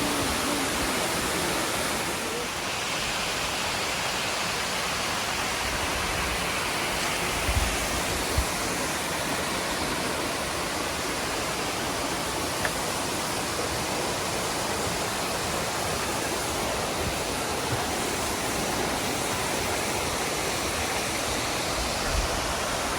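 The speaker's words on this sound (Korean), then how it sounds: "왼쪽에 있는 쌍용 폭포고요." Ssangyong waterfall in Seoraksan, Korea, a steady broadband roar of falling water that stays loud and constant throughout, with no voices.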